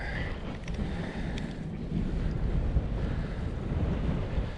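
Wind buffets the microphone in a low, continuous rumble on a cold day while pike fishing, gusting stronger in the second half, with faint outdoor sounds beneath it.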